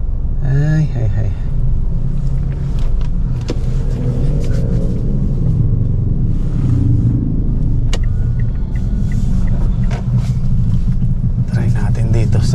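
Dense car traffic in a long traffic jam, a steady low engine rumble with occasional revving throughout, voices talking over it.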